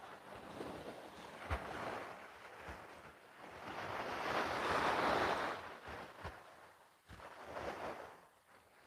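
Waves wash onto the shore of the South China Sea at a seaside resort, a broad surging roar that swells and recedes, with wind rumble buffeting the microphone and faint thumps from someone walking the beach.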